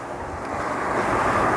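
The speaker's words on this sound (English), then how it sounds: "It's quite windy actually." Wind gusting against a lavalier microphone on a portable recorder beside a road, heard from a tarmac path about eight feet from the edge: a steady low rumbling buffet that swells slightly, with a faint rush of leaves or traffic beneath.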